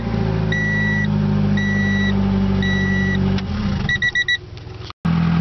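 A 1992 Honda Accord engine idles steadily after a cold start in a junkyard, a continuous mid-pitched running drone with repeated electronic beeps over it, then a brief rev and a short dropout near the end.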